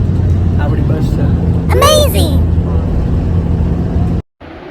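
A bus moving off with passengers aboard gives a steady low engine drone and road rumble, with a brief high squeal midway and a sudden cut near the end.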